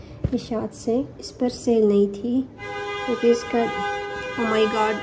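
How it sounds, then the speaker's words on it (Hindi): A car horn honks in the background of a shopping trip, holding one long steady blast midway through, while a person keeps talking in the foreground over it. "आप लोगों को हॉर्न पीछे सुनाई दे रहा है ना।"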